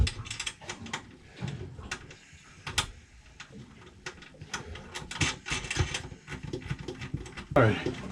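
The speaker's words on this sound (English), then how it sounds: "Put the nut on there." Hand tightening a nut on an inverter connection aboard a houseboat, a run of small close metallic clicks and ratcheting taps with faint talk in the background.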